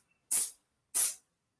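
A can of quick-drying aerosol coating sprays RC car parts in two short, close hissing bursts about half a second apart, each fading quickly into silence.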